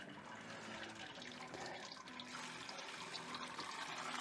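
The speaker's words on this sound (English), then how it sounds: "I'll just fill my jug up and keep pouring it on to keep the flow of water flowing through the grains" Water poured steadily from a jug over a bed of malted grain to rinse out the sugars during IPA brewing, a continuous close splashing rush that runs unbroken throughout.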